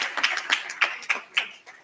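Scattered audience clapping at a policy lecture event, a few distinct claps in an uneven rhythm over two seconds, fairly close and moderately loud.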